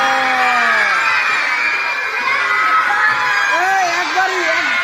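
A classroom of young schoolchildren moos together in imitation of a cow. Many overlapping voices make loud, drawn-out calls that rise and fall, with chatter mixed in.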